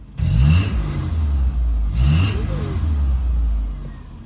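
A Subaru EJ25 engine swapped into a 1973 VW Bus is revved twice from idle. Each blip rises quickly and settles back into a close, throaty rumble, with no voices.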